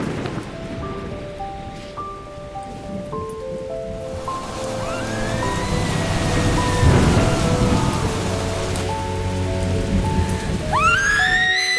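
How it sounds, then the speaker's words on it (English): Relentless monsoon rain pours over Bangkok, a steady broadband downpour with low thunder-like rumbles, heard throughout beneath a prominent musical score. "Slowly the monsoon crept in, enveloping the city of angels under a cloud of relentless rain."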